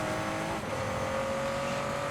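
Radical RXC race car with a 3.5 liter V6 in Forza Horizon 5, a steady buzzing engine drone at sustained revs with a slight dip midway, continuous and fairly loud.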